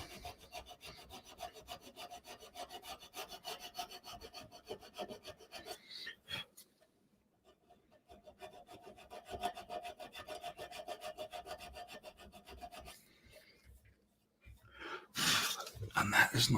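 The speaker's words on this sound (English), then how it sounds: "as I'm filing, I'm tilting my file up ever so slightly just to get to the more aggressive edge." A hand file works the faceted steel guard of a stiletto dagger in quiet, rhythmic rasping strokes. There are two steady filing runs with a short pause between them, then a louder burst of handling noise at the end.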